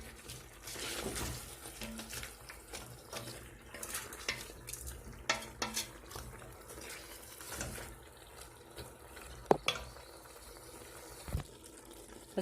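Onions fry in a pan for a rabbit stew with olives and mushrooms, giving a soft, quiet sizzle while a utensil scrapes and clinks against the pan in scattered bursts.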